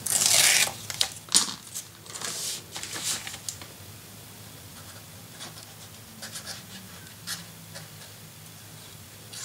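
Tape peeled off paper while crafting a shabby chic pink mini album, a loud ripping tear at first, then several shorter crinkly pulls and rustles, close by and fading to quieter handling.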